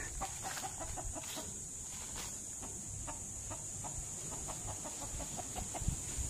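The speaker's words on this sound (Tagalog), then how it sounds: "Ang daming tumutuka." A flock of chickens clucks softly while pecking at feed on the ground, giving a scatter of quick, light taps under a constant high background hiss.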